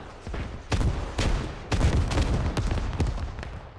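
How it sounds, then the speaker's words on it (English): Rocket barrage in the tactical shooter Squad, with repeated heavy blasts and crackling explosions rolling in close succession, several sharp booms standing out over a dense rumbling backdrop of distant gunfire. "Now that's a rocket barrage."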